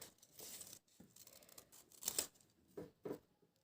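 Scissors snip through paper while cutting out a template, giving a series of short crisp cuts and rustles close by, with brief pauses between strokes.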